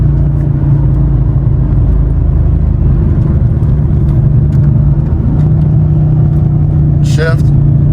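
A car engine driven through paddle-shift gear changes into sixth gear, a loud steady close engine drone and whir from inside the cabin, with a brief higher sound near the end.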